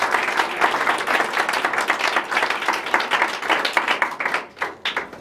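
A church congregation at an evening service breaks into sustained applause acclaiming God, many hands clapping together in a steady roar that thins out toward the end.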